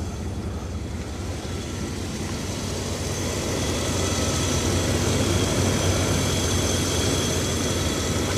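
A Rolls Royce Silver Spirit III that was left abandoned runs steadily just after starting, a continuous low engine rumble with a faint high whine above it, swelling slightly midway and holding steady, with no voices.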